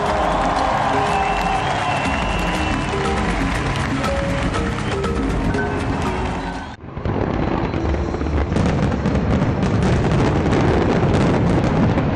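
New Year fireworks bursting around famous Paris monuments, a dense, loud barrage of crackling and booming explosions with a roaring crowd beneath, briefly dipping midway before resuming at full intensity.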